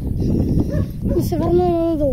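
A dog on a rural mountain route lets out a few yips, then a drawn-out whimpering whine, close and clear, with a person talking at the same time.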